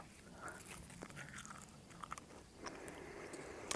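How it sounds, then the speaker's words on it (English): A blade of grass is chewed close up outdoors in a barley grass field, with soft irregular crunching and biting sounds over light background noise. "I'm going to grab a blade of grass and just chew on it"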